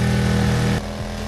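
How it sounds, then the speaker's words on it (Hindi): A motorbike engine roars loudly and steadily at full throttle, then drops abruptly to a lower, rougher running note near the end. "बालबीर यह देखकर अपनी बाइक को फुल स्पीड में भगाने लगता है।"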